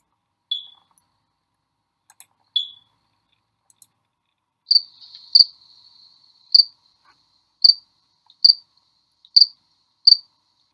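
Sharp, isolated high-pitched chirps of a house cricket ring out one at a time in near silence, spaced roughly a second apart, clear and close.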